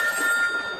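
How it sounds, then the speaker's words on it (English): A telephone rings with a steady electronic bell tone, heard loud and close for under a second with no one talking, part of a spooky phone call scene during a month of bad weather and a major storm. "Spooky phone call."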